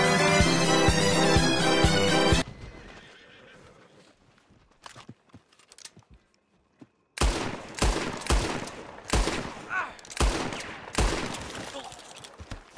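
Gunfire rings out in a Red Dead Redemption roleplay game. Loud music gives way to a quiet stretch with scattered faint knocks, then a string of sharp, close shots in uneven bursts.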